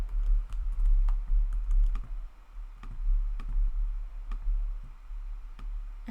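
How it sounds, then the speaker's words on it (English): Steady typing on a computer keyboard while entering website text, a continuous run of quick, close key clicks with a low hum underneath. "I'm just going to take some text and type it in."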